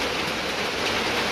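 Heavy, prolonged rain during a storm pours down as a dense, steady hiss with no breaks, filling the whole clip at a fairly close, even level.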